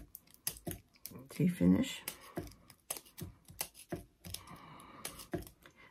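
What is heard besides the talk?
scissors cutting paper for a paper poppy center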